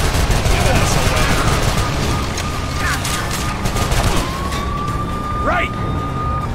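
A police car siren wails through dense gunfire and engine noise during a convoy firefight in the video game Call of Juarez: The Cartel, the siren tone rising and falling under shouting voices.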